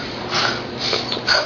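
A young child imitates a pig, producing a few short breathy snorts in quick succession, close and moderately loud.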